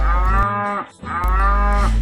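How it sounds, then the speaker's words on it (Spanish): A cow moos twice in long, loud, close bellows, each a sustained low drawn-out call separated by a brief pause, with no talk over it. "¿Quieren saber cómo hace la vaca?"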